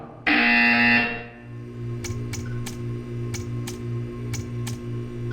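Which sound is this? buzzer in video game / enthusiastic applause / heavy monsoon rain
buzzer in video game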